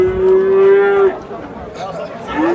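A male calf at a livestock market lets out one long, loud, steady moo lasting about a second, then gives a shorter, rising bleat near the end, with market crowd noise in the background.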